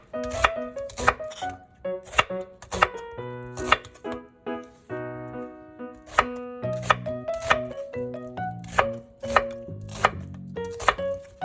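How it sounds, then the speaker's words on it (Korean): A knife chops an onion on a cutting board for Korean stir-fried squid, sounding as a steady series of crisp, close thunks, some in quick pairs, over quiet background music. "양파 1개도 먹기 좋은 크기로 잘라줍니다."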